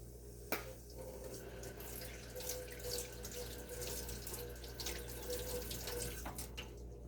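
Tap water runs steadily into a kitchen sink while a container is rinsed out during bread-making, a continuous close hiss with a few small knocks and splashes, no talking.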